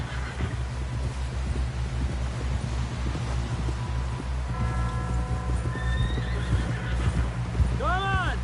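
A horse in Red Dead Redemption 2 whinnies loudly near the end over steady clip-clop of hooves and wind, with voices talking through much of it.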